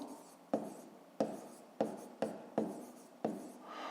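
Marker or chalk strokes on a board during a fifth-grade maths lesson, six short scratchy strokes each starting with a sharp tap and trailing off, fairly close and with no talking.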